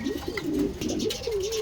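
Racing pigeons coo steadily in a loft where a hen sits on eggs, a close, continuous run of low throaty cooing with no voices.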